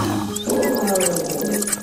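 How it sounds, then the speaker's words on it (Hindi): An animated lion caught in hunters' net roars angrily, a loud sustained growling roar running close and unbroken throughout with no talk. "गुस्से में आकर शेर जोर जोर से दहाड़ने लगा।"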